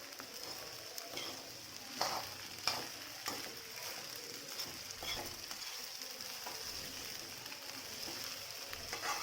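Sabudana khichdi turned over in a pan, soft repeated scraping and stirring strokes over a faint low sizzle, fairly quiet and close, no talking.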